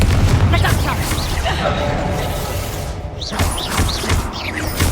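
Confringo spell blasts in the Hogwarts Legacy video game, a loud booming explosion at the start followed by further thuds and crackling magical impacts, with combat noise throughout.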